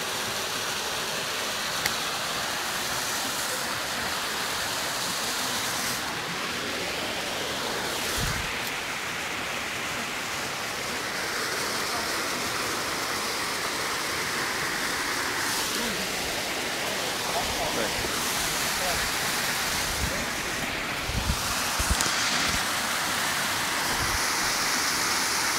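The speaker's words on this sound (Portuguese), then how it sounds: "A cachoeira tá bem ali embaixo." Steady broadband roar of rushing water from a waterfall at a farm in Pirenópolis fills the scene, with voices talking intermittently over it.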